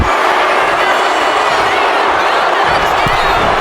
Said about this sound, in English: the crowd are making themselves known for Bronson Reed